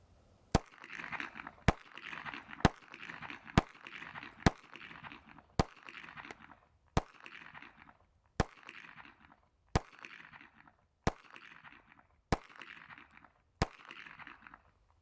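Jimenez Arms JA 9 pistol fired at an outdoor range: twelve sharp, loud gunshots spaced roughly a second apart, each followed by a brief ringing echo, with no talking between them.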